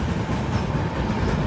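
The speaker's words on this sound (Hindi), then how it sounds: "गाड़ी तो यहाँ पे बिल्कुल ऑन टाइम पहले पहुँच रही है सूरत रेलवे स्टेशन पर" Steady, loud rumble and clatter of the Maharashtra Sampark Kranti Express rolling into Surat railway station, heard close from on board with continuous rail noise and no talk.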